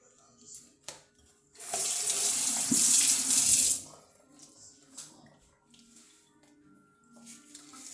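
Water runs from a kitchen tap in a strong, steady gush lasting about two seconds, then stops, leaving quiet room sounds with a few faint clinks.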